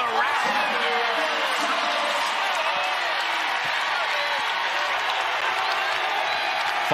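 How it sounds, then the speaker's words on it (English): A basketball crowd at the Moody Center roars steadily through a women's Big 12 game between Texas Tech and Texas, a dense, sustained wash of cheering and applause from the arena stands with no break. "Crowd on their feet here at the Moody Center."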